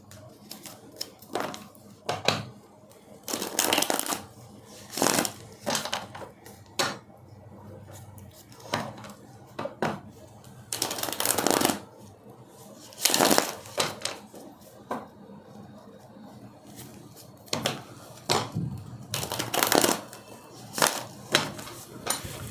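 Tarot cards being shuffled and handled in short, crisp bursts of riffling and slapping, repeated irregularly at close range with quiet gaps between them.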